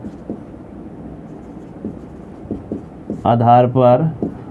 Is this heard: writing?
yes